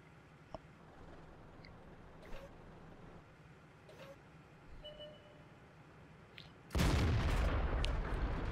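A tank cannon fires in World of Tanks, a sudden loud blast near the end that leaves a sustained rumbling aftermath, following quieter ambient game noise and faint clicks.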